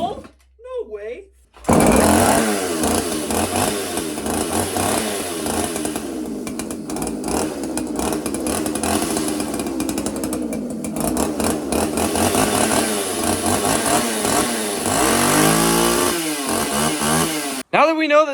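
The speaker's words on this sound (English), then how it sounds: "Now that we know that this chainsaw will run off a bottle of vodka, will it cut a tree?" A two-stroke chainsaw engine running on vodka fuel roars to life after a pull, revving loudly and unevenly with rising and falling pitch, sputtering near the end before cutting out.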